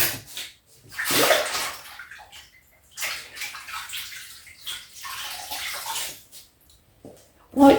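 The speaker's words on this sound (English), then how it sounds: "I'll just wash my hands" Hands being washed under a running tap during kitchen food prep for pork burgers, with bursts of splashing water rising and falling over several seconds, close and moderately loud, with no talking.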